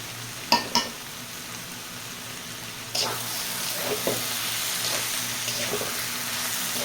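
Chili fries in hot oil in a pan while loitta dried fish is being cooked, giving a steady close sizzle broken by a few sharp clinks and scrapes of a stirring utensil.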